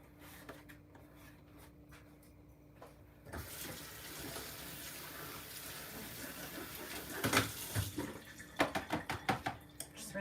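Water from a kitchen tap runs steadily into a pot being rinsed out while cooking breakfast potatoes. The flow starts a few seconds in and is joined near the end by a quick series of metallic knocks and clatters.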